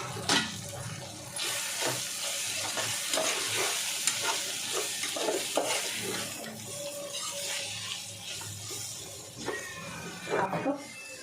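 Soya pulao being stirred with garam masala in a pan on the stove, a steady run of scraping and spoon clatter over soft sizzling, with brief taps and a little water splashing near the end.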